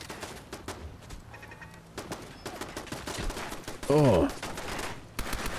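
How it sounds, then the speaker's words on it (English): An automated turret in Fallout 4 fires rapid bursts of gunshots throughout, dense and close, with game sounds mixed in and a brief vocal exclamation near the end. "Gotta get around this frickin' turret"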